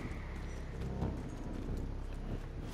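Horse hooves clip-clop in the Evil West video game, a steady trotting patter over a rumbling game soundscape with ambient noise, moderately close and sustained throughout.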